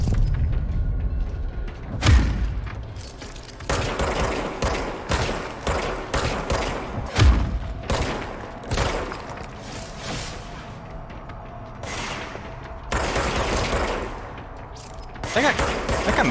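Gunfire from the video game Control while shooting on the move, sharp loud shots and bursts fired in irregular volleys with booming thuds, over busy game sounds and intermittent muffled talk.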